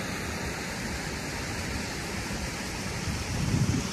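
A small waterfall in the Kyoto Garden in London gives a steady, continuous rush of falling water that grows slightly louder near the end, heard alone without speech.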